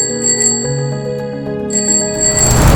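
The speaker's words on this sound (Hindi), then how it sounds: "अपने घर के सामने खड़ा होकर साइकिल का घंटी बजाता है।" A cartoon bicycle bell rings in a clear series of bright metallic dings, loud and close, with no talk over it.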